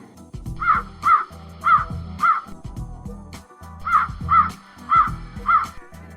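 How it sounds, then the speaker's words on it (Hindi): A cartoon crow caws in eight clear, evenly spaced calls, paired in two bursts, loud and close over a busy low musical backing. "हे भगवान, कहते हुए ये कौवा वहां से उड़ गया"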